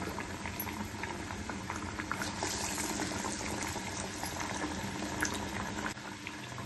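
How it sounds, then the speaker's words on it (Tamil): Masala vada patties sizzle in hot oil, a dense, steady crackling hiss that fills the whole stretch at an even, moderate level with no talk. "எல்லாத்தையும் தட்டி எண்ணெயில் போட்டுக்கலாம்."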